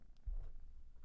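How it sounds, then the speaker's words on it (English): A cat named Thor purring close by, a soft, low and steady rumble that stays faint and continuous throughout. "Listen to him purr."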